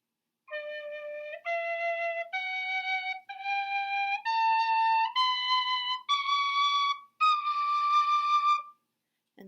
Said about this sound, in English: And this is my wooden tin whistle.